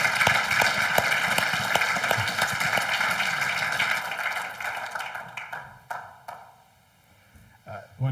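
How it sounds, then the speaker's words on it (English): Audience applause in a church gathering: steady, dense clapping from a crowd that fades away over several seconds, leaving near silence with a few scattered claps. "Give him a round of applause."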